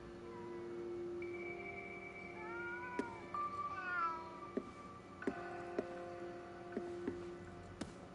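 Cats meow and caterwaul in the video game Ghostwire: Tokyo, several drawn-out tonal cries overlapping at low level against a faint background, punctuated by light sharp clicks.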